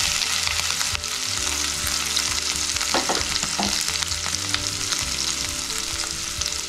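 Cumin seeds and chili sizzling and frying in a pan, a steady loud crackle that runs throughout with a few stirring scrapes near the middle, no voices.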